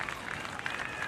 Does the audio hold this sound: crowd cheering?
yes